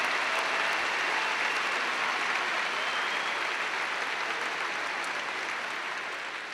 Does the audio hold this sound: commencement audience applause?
yes